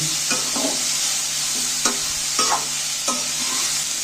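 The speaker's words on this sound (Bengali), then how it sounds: "এইগুলোকে একসাথে আমি নাড়াচাড়া করতে রয়েছি নেড়ে একটু ভাজা ভাজা করে নেব" Momo filling stir-fries in a pan, a constant sizzle broken by repeated scraping and clinking strokes of a spatula.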